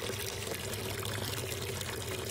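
Water pours steadily from a bucket in a continuous, fairly faint splashing wash that holds without a break.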